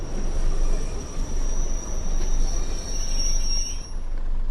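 A Class 101 DMU train in Train Sim World 2020 brakes to a stop, with a continuous loud rumble of running gear and a steady high wheel squeal that fades near the end.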